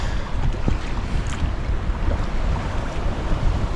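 Strong wind buffets the microphone aboard a sailboat under sail with no engine running, a loud, continuous rumbling roar with water and wave wash mixed in, and nobody talking.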